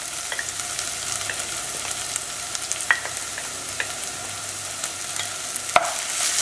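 Ginger garlic paste frying with onions in a pan for Goan prawns potato chops, a loud continuous sizzle with scattered crackles and scraping stirring sounds throughout.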